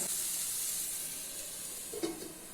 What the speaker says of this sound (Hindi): मसालों को मीडियम फ्लेम पे 2 से 3 मिनट तक अच्छे से कुक कर लेते हैं।